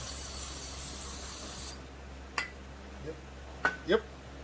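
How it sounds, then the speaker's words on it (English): A steady aerosol cleaner spray hisses for about two seconds, close by, into a Husqvarna 268/272 chainsaw during a port job, then stops, followed by a few faint clicks and short murmurs. "Spray a little cleaner in there."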